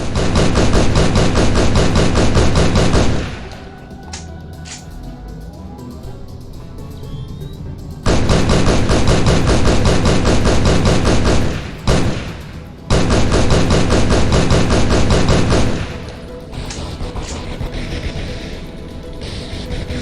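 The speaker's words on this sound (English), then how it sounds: "God damn it, stop shooting me." Heavy automatic gunfire fills a Halo SPV3.3 firefight in long, loud continuous bursts, with short lulls of scattered shots and explosions between the barrages.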